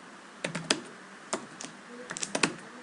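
Keys tapped on a computer keyboard while a networking command is entered, short clusters of crisp clicks in irregular bursts, close and fairly quiet, no talking.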